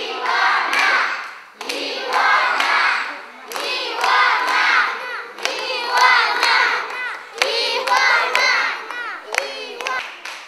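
A crowd of children shouts together in loud repeated bursts, a name called out in unison several times at a Christmas event with Santa Claus, with brief gaps between the shouts.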